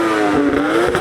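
A Toyota Chaser engine revs hard from standstill, a loud close rising engine howl sustained through a brief burst.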